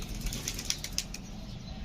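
A homing pigeon takes off and flies away with a quick burst of soft wing flaps, a few crisp beats over a quiet, faint background.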